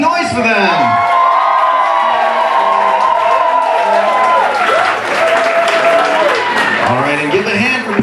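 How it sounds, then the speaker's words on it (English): Wedding banquet guests applaud and cheer for the bride's parents, with steady loud clapping, whoops and shouts filling the room, while an announcer's amplified voice carries over the crowd. "Please make some noise for them."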